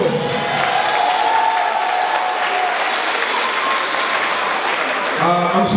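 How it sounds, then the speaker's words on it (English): A large crowd applauds graduates at an Eagle Brooklyn convocation, dense sustained clapping filling the hall with a few scattered cheers, loud and steady throughout before easing near the end. "Everybody give my boys another round of applause."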